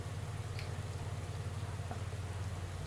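Steady rain hisses evenly throughout a Pro Cycling Manager 2018 race, a dense continuous patter under a low hum, with no talking.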